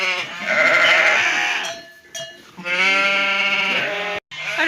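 Sheep bleat loudly and close in a barn ahead of shearing, several long wavering calls overlapping one another, with a brief pause midway and a sharp cut near the end.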